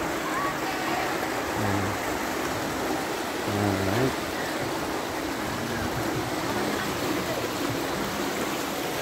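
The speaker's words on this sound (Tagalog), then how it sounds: "ilog siya talaga guys, running water." A river runs over rocks in a constant, full rushing wash that fills the whole clip. A person says a single word early on over the water.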